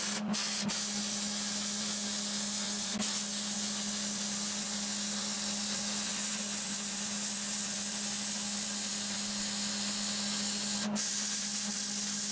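Continuous hissing, crackling weld on coilover axle brackets for a custom S10 pickup build, with a steady electrical hum running beneath and a few sharp clicks as the arc starts and stops, close and constant throughout.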